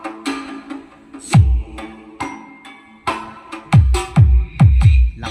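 Heavy bass-driven music plays through a repaired Sakura AV-733 amplifier salvaged from a junkshop, with loud, booming low thumps landing in an irregular beat over brighter musical layers.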